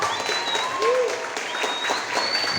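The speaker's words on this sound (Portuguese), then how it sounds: "Uma salva de palmas para o Irineu." Applause from an audience at a school talk on cordel literature and poetry, steady crowd clapping mixed with a few whistles and murmurs, continuous and fairly close.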